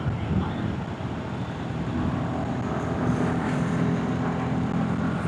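A 2026 Royal Enfield Mana Black motorcycle engine runs steadily at moderate revs, below 5,000 rpm, while riding along a road, a continuous droning hum under wind, close and even throughout.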